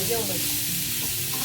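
Onion frying in a pan for a hotel-style matar paneer curry, a steady broadband sizzle with occasional stirring, close and continuous beneath one short spoken word.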